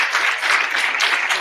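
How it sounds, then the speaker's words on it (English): At a solidarity rally with keynote speeches, the crowd gives a final round of applause for the keynote speaker, a loud, continuous roar of clapping filling the whole brief moment. "we give a final round of applause for our keynote speaker"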